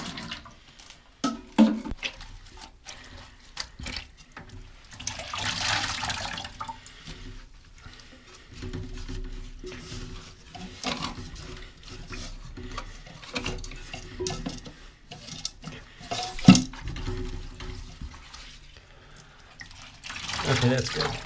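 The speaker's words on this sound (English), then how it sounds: "Scooping out the water as much as I can, and then the last remainder will end up be done by the rag" Water is scooped out of a Kohler toilet tank in scattered bursts of sloshing, dripping and container clinks, close and moderately loud, with quiet stretches between scoops and a voice talking now and then.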